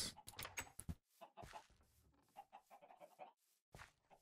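Chickens in the video game Minecraft give several short, clipped clucks in quick succession, fairly quiet and close, with brief gaps between them and no talking.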